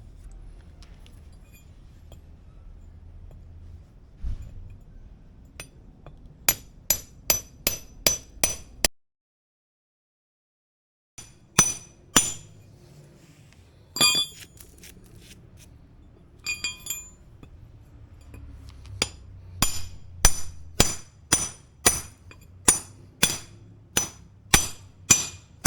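Sharp metallic strikes of a hammer on a cold chisel against a DJI Action 3 camera, hit after hit in quick series broken by a short silence, with ringing clinks, loud and close.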